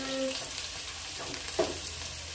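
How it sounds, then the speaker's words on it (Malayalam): Shallots dropped into hot oil after mustard seeds have popped, for a Kerala-style beef fry, give a steady, close, hissing sizzle with a few brief crackles, alone without talk. "ഇനി കടുക് പൊട്ടി കഴിയുമ്പോഴത്തേക്ക് നമുക്ക് നമ്മുടെ ചെറിയുള്ളി ഇട്ട് കൊടുക്കാം കേട്ടോ."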